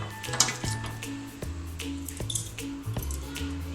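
Scissors snip through hair held against a comb laid crosswise during a home U-shape haircut, a string of close, crisp, irregularly spaced cuts with faint handling noises between them.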